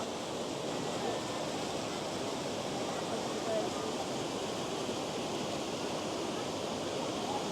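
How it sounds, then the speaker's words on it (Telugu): A Black Forest waterfall in Germany rushing over rocks, a steady, dense roar that fills the whole clip without pause, loud and close. "ఇక్కడ చూడండి ఈ వాటర్ ఫాల్స్ ఎట్లా ఉన్నాయో"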